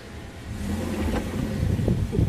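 A 2019 Toyota Rush engine revs up as the driver presses the gas, a steady mid-pitched rise in motor noise swelling louder toward the end, close by with no talk over it.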